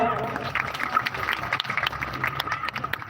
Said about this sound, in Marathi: त्यांच्यासाठी एकदा जोरदार टाळ्या देऊयात आपण